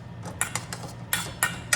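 Spoon scraping and clinking against a pan while konda kadala sundal is mixed, a series of sharp irregular metallic taps over a low background hum.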